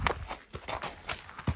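Horse hooves step softly on the ground as the horse is worked in hand, a few light, irregular clops, faint and close, with nothing else heard.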